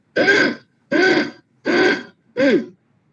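A person makes four short, guttural throat sounds in a steady rhythm, imitating a pigeon's coo, close up with brief silences between them.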